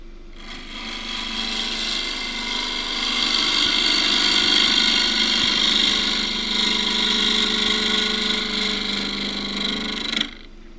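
A gouge cuts wood spinning on a lathe while being turned toward a cylinder, giving a continuous close whirring hum with a rough cutting hiss that builds midway and stops abruptly near the end.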